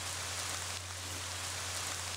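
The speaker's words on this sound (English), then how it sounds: "It started raining in the room." Rain falls inside a room in the video game Ib, a steady, dense hiss over a constant low hum, even and unbroken throughout.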